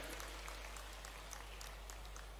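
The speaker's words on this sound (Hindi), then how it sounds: "आइए जोरदार तालियां से हम और आप भी अपनी भावनाओं को इसमें समाहित करें।" Applause from a crowd at a Hindu devotional festival at a hilltop goddess shrine, a steady dense patter of clapping that holds evenly throughout with no pauses.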